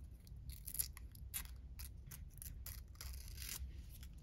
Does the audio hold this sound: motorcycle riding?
no